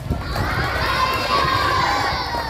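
Children at a school Grandparents Day celebration shout together loudly in unison as a crowd, a sustained cheering chorus of young voices with a rumble of movement beneath it.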